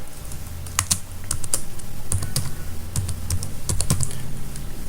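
Steady run of computer keyboard typing as a website name is entered, crisp clustered keystrokes in uneven bursts, close and clear with no talking.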